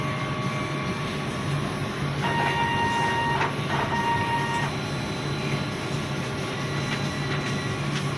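A printer runs steadily with a continuous mechanical whir, and brief tonal whines from the moving print head come and go near the middle.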